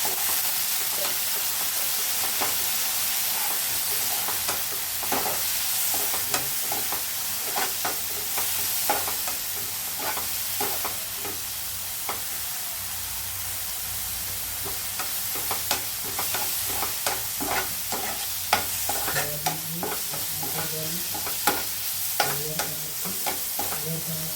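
Chili and garlic paste sizzles and fries steadily in a hot pan, with scattered crackles and stirring scrapes over a continuous hiss throughout.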